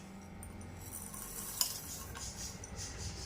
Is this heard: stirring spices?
yes